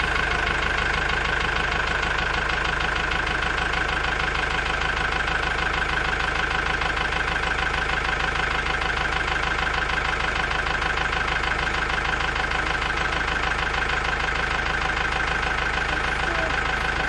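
A mini tractor engine runs continuously, a loud, steady, close drone with no pauses throughout.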